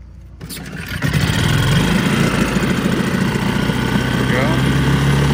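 A small Nissan four-stroke outboard motor, choke on, catches after a single pull and settles into a steady, loud idle that runs on without pause.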